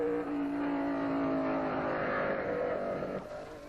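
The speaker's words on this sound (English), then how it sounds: "Musso laps Piotti's Maserati and with a tremendous burst of speed flashes past" A 1957 Maserati Formula 1 race car at the Reims French Grand Prix speeding past, a loud, high engine whine holding steady and then dropping in pitch as it moves away, with no voices.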